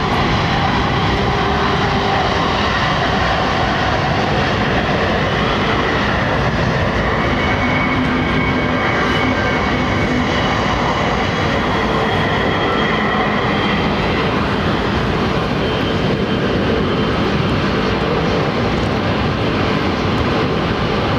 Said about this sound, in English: Listen to this thing. Egypt Air finally making its presence known.